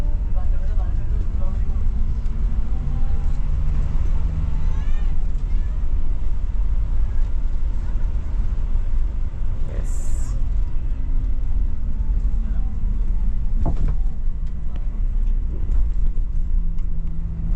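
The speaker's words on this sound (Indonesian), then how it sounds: "Ini bus." A Star Express intercity bus pulling away from the TBS terminal in Kuala Lumpur, its engine a steady, close, low rumble throughout with faint indistinct voices in the background.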